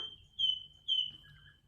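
Two short, bright, high chirps about half a second apart, followed by a softer, lower twitter, over a quiet low hum.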